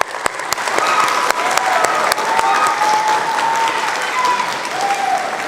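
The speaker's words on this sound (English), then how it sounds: "Let's give her a round of applause for our camera operator" Applause from a high school film workshop audience for a camera operator, a dense steady clapping of many hands lasting several seconds, fairly close and loud.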